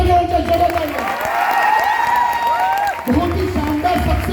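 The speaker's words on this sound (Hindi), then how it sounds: "एक बार मैडम के लिए जोरदार तालियां।" Applause from a ceremony audience, a moderate ripple of clapping with some cheering that runs for a few seconds, partly overlapping with a speaker's voice at the start and end.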